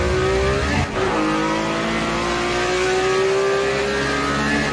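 A Porsche 911 Boxer in a racing video game drones with a steady engine tone whose pitch climbs gradually under acceleration, loud and continuous with no talk.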